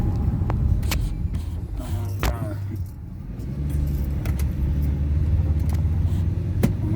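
A 2005 Nissan Elgrand 3.5 V6 van is driven with a deep, steady engine rumble from inside the cabin, the drone dipping briefly as gears are shifted manually, with light rattles and clicks over it.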